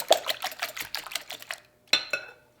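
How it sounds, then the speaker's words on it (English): A whisk beats salt and pepper into a quiche egg mixture, giving a quick run of light rhythmic clicks and taps against the bowl, then a short pause and two final taps. "Just a pinch, and we can whisk that together."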